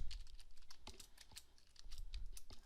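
A computer keyboard tapped quickly to type a Python command, a short run of crisp, close key clicks in an uneven rhythm with no voices.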